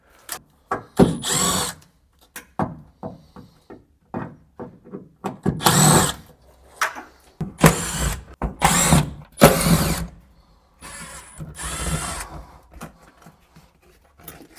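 A power drill whirs in short bursts as it backs screws out of panels on an abandoned 1968 Ford Mustang, with repeated close, loud spin-ups and brief pauses, plus some clicks and handling noise.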